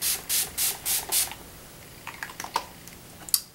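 Primer and setting spray misted on in five quick, even bursts of hiss, close and fairly loud, followed by faint soft rustling and taps.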